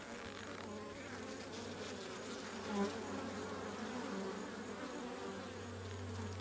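Africanized honeybees buzz in a dense, steady drone close by at an open hive, with a low hum running underneath throughout.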